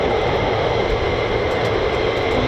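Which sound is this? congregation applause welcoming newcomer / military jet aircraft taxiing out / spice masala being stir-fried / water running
military jet aircraft taxiing out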